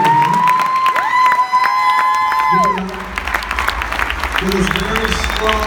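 Audience applause, cheering and whoops fill a room at a Vegas launch event for Ella's List, with voices and a tonal sweep mixed in the first half before the crowd noise carries on, loud and close.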